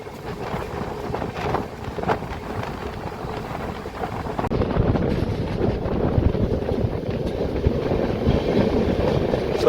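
The Charminar Superfast Express rolls slowly out of a terminal station, a steady broadband rumble of wheels and carriages heard from on board, growing slightly louder midway, with wind buffeting the microphone and no talk.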